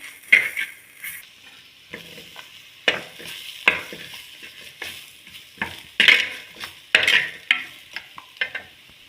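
Moringa drumsticks frying in a pan for a South Indian kuzhambu, stirred with a spoon: irregular sharp scrapes and clinks against the metal over a soft, steady sizzle, close and fairly loud.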